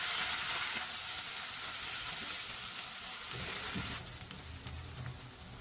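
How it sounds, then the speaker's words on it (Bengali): Chicken noodle sauce with tomato sauce and soy sauce sizzles and hisses in a hot pan while being stirred, a steady close frying sound that drops a little softer near the end, with no voices. "টমেটো সস দিয়ে আবারও ভালোভাবে নেড়ে চেড়ে নিব তারপর দেবো সয়া সস"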